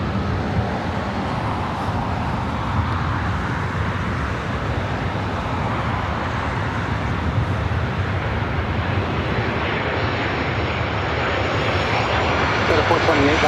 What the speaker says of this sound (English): Also, Delta Airlines Flight 1358 coming in from Seattle. A321neo just a minute out.